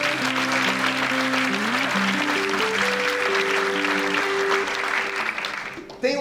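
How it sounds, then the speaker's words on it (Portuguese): Applause from a church congregation, a loud, sustained wash of clapping lasting several seconds over steady organ or keyboard chords, thinning slightly at the end. "e está a salva de palmas a Jesus"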